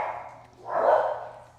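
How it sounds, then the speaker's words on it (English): Dogs bark at a distance during an indoor crafting session, two muffled barks, the second louder and longer, over a faint low hum. "oh, there goes the dogs."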